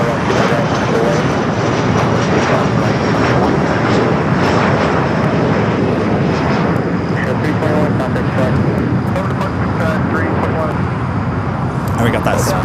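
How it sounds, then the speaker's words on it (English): A JSX jet roars loudly and steadily as it takes off from LAX runway 25 left, a sustained broad engine rumble with voices talking over it throughout. "JSX taking off 25 at left."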